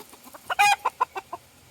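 A chicken clucks close by in a short, uneven series of sharp clucks, one louder squawk in the middle, with no talking.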